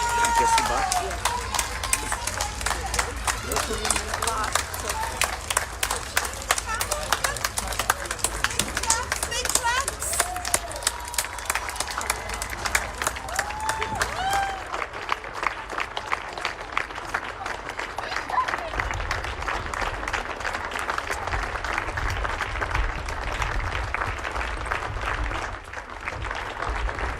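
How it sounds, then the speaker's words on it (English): Doorstep applause for NHS workers across the UK during the 2020 pandemic: a sustained wash of clapping, cheering and children's voices from neighbouring homes, with a steady mid-distance crowd texture and chatter throughout. "Applause ringing out there all across the UK for the NHS workers working so hard to save lives."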